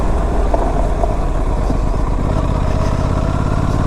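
An Aprilia RS 457 motorcycle ridden over rough off-road ground, its engine a close, steady rumble with uneven throttle pulses throughout, no talking.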